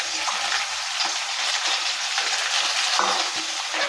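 Small chopped chicken pieces fry in hot oil in a pan for chicken manchow soup, making a constant dense, close sizzle with light stirring scrapes and no voices.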